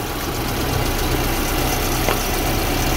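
A Volvo 940/740/240 car engine idles steadily at close range, a low continuous rumble with a faint rattle, no talking.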